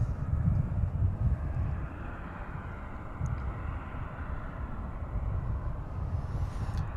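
Martinair Super Cargo Master cargo plane at DFW airport, a steady rumbling engine roar heard from a distance, fairly even throughout with no talking.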